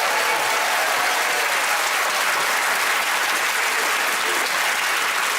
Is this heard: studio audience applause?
yes